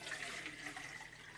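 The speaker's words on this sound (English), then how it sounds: "I'll just transfer this can of water from one can to the next." Water poured from one can into another while making tomato sauce and meatballs, a steady, soft pouring wash that runs through the whole stretch at low level with no talk.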